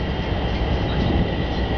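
An MTA Long Island Rail Road Bombardier M7 commuter train rumbles loudly and steadily nearby as it stops, a constant roar of wheels and carriages with no voices heard.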